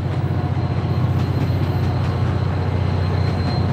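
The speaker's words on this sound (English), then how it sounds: "Look at the train right there." A train rolls past in a steady, loud, continuous rumble with a low rhythmic wheel beat, heard close with no voices over it.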